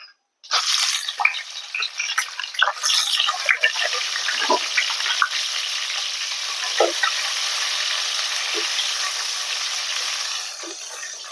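Small pieces of chopped garlic sizzle and fry in hot oil in a clay pot for a fish curry, a steady close hiss with occasional pops and stirring scrapes, running continuously with no talk.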